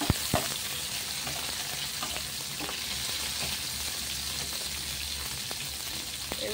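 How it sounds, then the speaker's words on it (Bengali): Prawns hit spiced oil tempered with ginger and green chilli and fry with a steady, close sizzle and crackle, with occasional sharp pops and stirring clatter, no voices over it. "ফোড়নটা হয়ে গেছে, চিংড়ি মাছগুলো দিয়ে দিই।"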